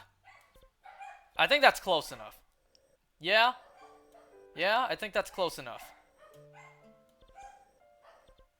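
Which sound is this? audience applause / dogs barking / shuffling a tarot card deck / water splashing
dogs barking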